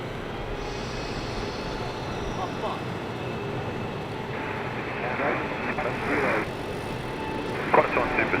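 A Singapore Airlines airliner takes off at Sydney Airport, a broad distant roar of jet engines building slightly, with radio chatter and voices over it.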